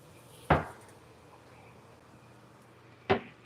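Two sharp wooden knocks of a kitchen drawer or cupboard being opened and shut in a home kitchen during a search for fajita seasoning, each a brief clack about two and a half seconds apart, with no talking.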